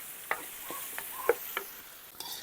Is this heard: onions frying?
yes